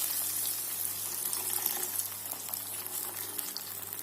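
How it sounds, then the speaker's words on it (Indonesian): Water poured into a hot cooking pan holding a chili mixture for salted fish, a steady close hiss and bubbling splash under a low, constant hum. "Masukkan air secukupnya,"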